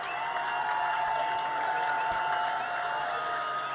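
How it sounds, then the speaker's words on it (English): Football stadium crowd at a Williamsburg vs Nevada game before a field goal kick: a steady, loud roar of cheering and applause from a big crowd, heard from a distance. "Raider crowd getting loud."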